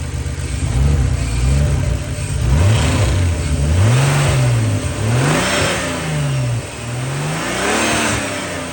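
BMW S52 junkyard engine with heavy blow-by runs and revs repeatedly, loud and close, its pitch rising and falling in several throttle blips over a rough, chuffing idle.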